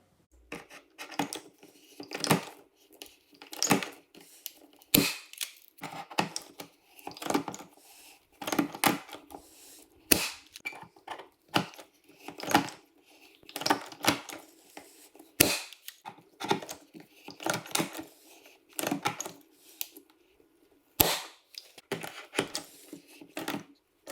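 Rivets being fastened on Skinz intake vent covers for a Ski-Doo Freeride snowmobile, a long run of sharp close clicks and snaps coming in irregular bursts with brief gaps of shuffling and rubbing between them, no talking.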